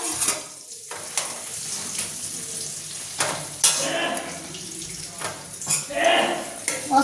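Paneer frying in a pan while a moong dal halwa is made, a steady sizzle under scattered clinks of utensils and stirring, with a few louder bursts.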